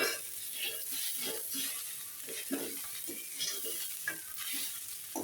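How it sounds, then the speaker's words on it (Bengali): Fish head and onion fry with taro stems and potato in a chochchori, a soft, continuous sizzle broken by repeated scraping stirs of a spatula in the pan at close range. "এখন মাছের মাথা আর পেঁয়াজ এই চচ্চড়ির সাথে মিশিয়ে আর একটু সময় ভেজে নেব"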